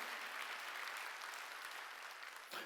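A church congregation claps together during a Sunday worship service, a dense, steady wash of applause that holds evenly for a few seconds before breaking off abruptly near the end.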